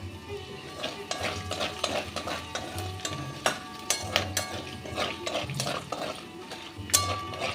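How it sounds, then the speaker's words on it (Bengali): Whole spices — bay leaf, green cardamom, cinnamon, cloves and white cumin — frying in oil as the tempering for a Bihari chicken curry, with soft sizzling under repeated stirring scrapes and clinks of a spoon against the pan. "দিয়ে ফোড়নটা ভেজে নেব।"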